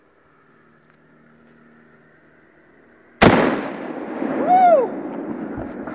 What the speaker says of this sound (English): We got some armor piercing incendiary rounds.